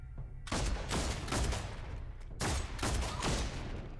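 Gunfire in the Warhammer 40K Deathwatch video game, loud rattling bursts of shots in two main volleys, each lasting about a second and a half, close and unaccompanied by speech.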